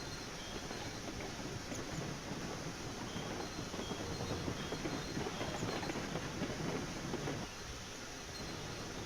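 A train rolls along in the railroad simulation game Railroads Online, a continuous low rumble of wheels and track noise with faint clacking, steady and unbroken, with a drop in the rumble near the end.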